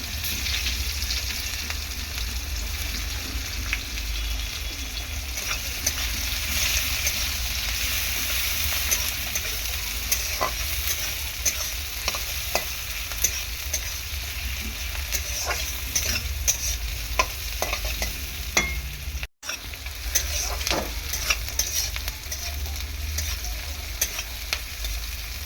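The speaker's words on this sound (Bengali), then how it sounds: "পেঁয়াজটা হালকা করে ভাজা হয়ে গেলে" Onion fries in oil in a pan for a loitta (Bombay duck) fish curry, a steady loud sizzle under repeated scraping stirs of a spatula, close up, continuous and without speech.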